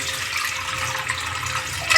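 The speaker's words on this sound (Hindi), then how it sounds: "इसमें पानी डाल देंगे।" Water pours into a pot of rice set on a gas stove for cooking, a steady close rushing stream, fairly loud and uninterrupted, with no talking.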